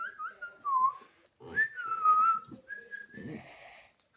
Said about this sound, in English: You can't even whistle properly, so don't whistle.